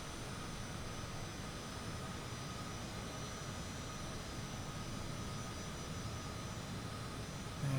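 An airplane climbs away from Spencer Municipal Airport in Microsoft Flight Simulator 2024, its engine making a steady, even drone with broadband roar throughout and no variation in intensity.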